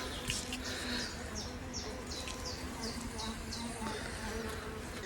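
Honey bees drone steadily in an opened double-deep colony, a dense continuous buzz with individual bees whining past close by in repeated passes.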